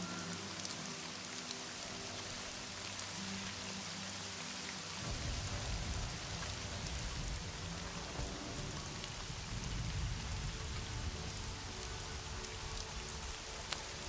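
Rain ambience for a tabletop campaign scene: constant patter of drops, with a heavier, fuller downpour swelling in partway through and holding steady, with no voices.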